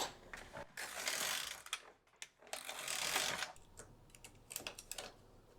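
A knitting machine carriage is pushed back and forth across the needle bed to knit two rows, giving a close, busy mechanical clatter and whirr in two long sweeps with brief pauses and some scattered clicks.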